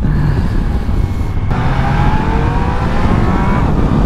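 A motorcycle engine runs loud and steady, its tone climbing partway through as if passing or accelerating close by, with no one talking.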